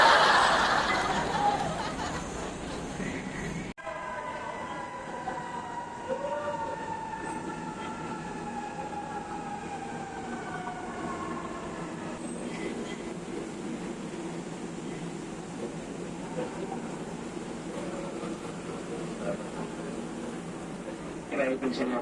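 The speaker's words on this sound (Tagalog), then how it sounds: "nakasakay na tayo ng MRT" Steady rumble of an MRT metro train in motion, with squealing wheel tones and muffled voices talking nearby throughout the ride.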